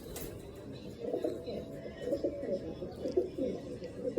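Low, soft cooing from a blue bar Taiwan pigeon repeats in a murmuring rhythm nearby, with some speech-like sound mixed in.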